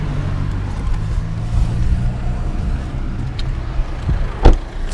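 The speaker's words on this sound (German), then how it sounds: "Ach, pass auf, Autos." Cars rolling past on a town street in Leonberg, a close low rumble of tyres and engines that swells and fades within a few seconds, with one sharp knock near the end.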